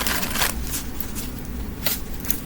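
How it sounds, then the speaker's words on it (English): A deck of tarot cards being shuffled up close, with riffling bursts of papery flutter and quick card slaps across a couple of seconds, no talk. "Just want to shuffle this up a little."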